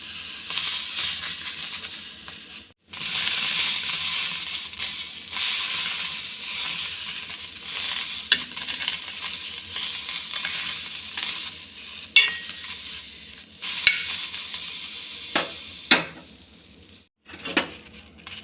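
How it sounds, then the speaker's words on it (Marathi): Green chillies roast on a hot griddle with a steady sizzle and hiss, while a few sharp scraping stirs sound near the end. "मिरच्याला काळे डाग येईपर्यंत भाजायच्या"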